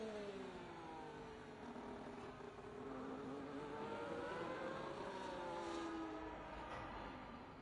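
Race car engine on an out lap in a sim racing video game at Texas, a steady droning engine note with gradual rising and falling pitch sweeps, continuous and fairly loud throughout with no talk.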